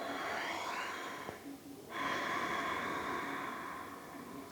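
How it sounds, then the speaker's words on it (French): Ujjayi yoga breathing, audible sonorous breath drawn through a narrowed throat, a long airy hiss that fades around the middle, pauses briefly, then returns as a second steady breath, close and clear. "Et venez trouver Ujjayi, la respiration sonore."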